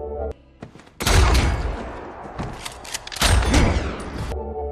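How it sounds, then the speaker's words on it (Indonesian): A shotgun blast from the Terminator Genisys film, heavy booming bursts with rumbling low-end and debris-like crackle, loud and close, arriving in two dense waves separated by a quieter stretch. "Pops yang langsung menembak John dengan shotgunnya."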